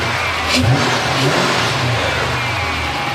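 Engine of a US police Dodge Charger that sat unused for five years, revving up and holding at high revs. The tone is loud and sustained, with a rising pitch early on, and no one talks.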